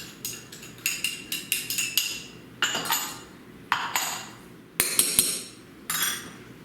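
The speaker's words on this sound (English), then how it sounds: "now into our flour, we're gonna mix our baking soda and our salt" A utensil clinks and taps against a bowl while baking soda and salt are stirred into flour, giving a series of sharp, uneven metallic knocks in short bursts, close and clear, with no talk.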